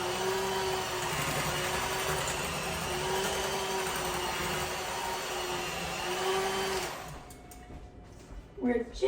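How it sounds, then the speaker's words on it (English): A vintage electric kitchen mixer runs with a steady, even motor whine for about seven seconds, then cuts off, followed by a few soft knocks. "Notice our vintage mixer."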